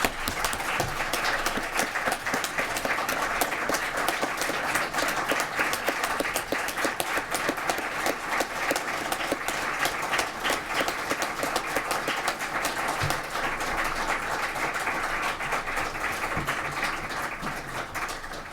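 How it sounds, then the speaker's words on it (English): An audience gives a sustained round of applause, dense steady clapping that continues evenly throughout without talk. "I say we give them all a round of applause."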